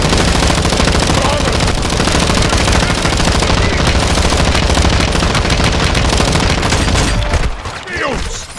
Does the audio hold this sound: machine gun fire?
yes